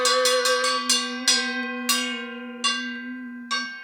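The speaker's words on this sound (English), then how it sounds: "Some of our very important business always starts with a bell." A bell struck repeatedly to open classroom circle time, around nine bright metallic strikes in an uneven rhythm, each ringing on with a sustained tone, close and loud with no talking.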